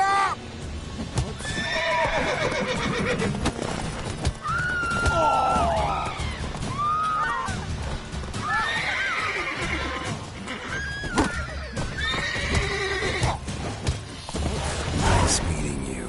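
Horses neigh and whinny repeatedly in The Witcher video game, over a steady, busy soundscape with clip-clopping hooves and thuds, loud and continuous throughout.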